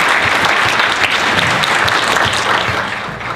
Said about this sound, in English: I'd like to give a round of applause to the MADC and that team for doing this actually